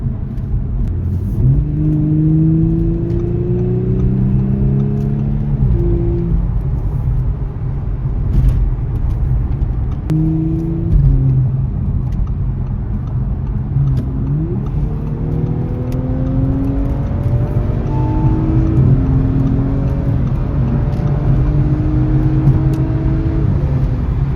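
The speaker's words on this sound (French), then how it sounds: "T'entends V6." An Audi S5 V6 engine revs up repeatedly, rising and falling in pitch over a steady road rumble, heard from inside the car with stiff suspension in Montreal.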